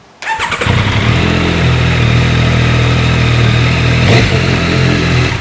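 A motorcycle engine fires up with a sharp burst, then settles into a loud, close, throaty idle, rumbling steadily with a brief blip near the end.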